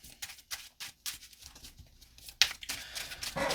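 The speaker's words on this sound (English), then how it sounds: "And we're going to shuffle." Trading cards for a Spright deck being shuffled, a quick series of close papery riffles and flicks in an irregular rhythm, getting denser toward the end, with no talking.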